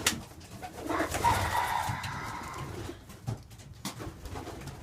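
Racing pigeons cooing softly in a loft, low repeated coos with some rustling and fluttering around them.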